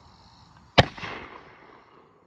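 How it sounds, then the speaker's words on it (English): A single sharp blast from an 11 gauge muzzleloading shotgun of unknown make, loud and close, followed by a brief rolling echo that fades over about a second. "Shooting the 11 gauge,"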